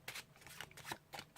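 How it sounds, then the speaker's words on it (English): A pack of playing cards is shuffled by hand on a card mat in a series of quick riffling bursts, close and fairly quiet, with no voices. "shuffle off the rest of the pack on the top, which keeps their card on the bottom"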